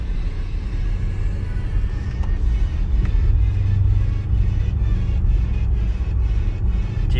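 A 2014 Mercedes CLS 550 with a 4.7-litre twin-turbo engine and all-wheel drive cruises along, heard from inside the cabin as a steady low rumble and road drone with slight swells in engine note.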